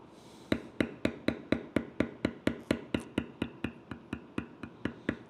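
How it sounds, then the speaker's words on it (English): A leather beveling tool is struck again and again by a mallet while tooling leather for a canteen purse, giving about twenty sharp, evenly spaced taps, close and fairly quiet, with no talking. "you don't have to hit the tool with the same amount of pressure every time"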